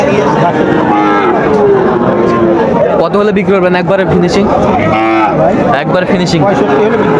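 A young Sahiwal bull calf at a busy cattle market gives drawn-out moos amid loud crowd chatter and bargaining voices close by.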